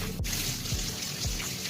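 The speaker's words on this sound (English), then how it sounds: "you'll know the water heater is full when the hot water taps are running water like that" Hot water runs from household taps while an A.O. Smith water heater is being refilled after draining, a steady splashing flow with a few gurgles and sputters, close by and alone.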